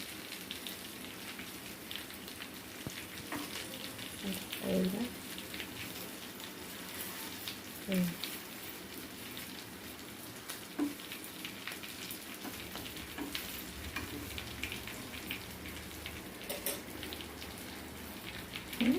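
Chicken frying in oil in a pan, a quiet steady sizzle and crackle with occasional soft pops and clinks, no talking.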